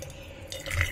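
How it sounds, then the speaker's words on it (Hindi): Hot water is poured into a cup holding a spoonful of instant coffee, a soft close trickle and splash that grows a little louder toward the end. "अब इसमें ये गर्म पानी डाल देती हूँ"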